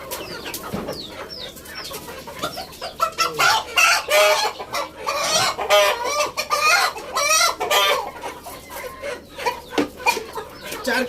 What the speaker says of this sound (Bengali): 4 কেজি ওজনের টাইগার মুরগি দেখতেই পাচ্ছেন, বিশাল বড়।